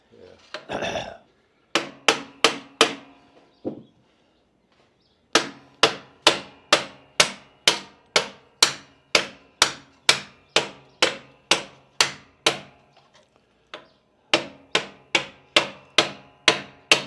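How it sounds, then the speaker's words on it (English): A Norton motorcycle shaft is tapped out with repeated sharp hammer blows, a long series of evenly spaced close metallic knocks broken by short pauses, with brief voices at the start. "at this point you're just barely tapping the end out"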